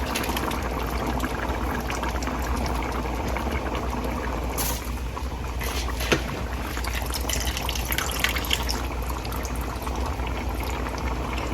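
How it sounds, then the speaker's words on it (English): Washed rice goes into a pot of boiling water for Haitian black beans and rice, giving a steady roiling bubble and hiss with a few soft splashes, close and alone without talk. "So I'm gonna go ahead and take my washed rice and we're gonna place it in here"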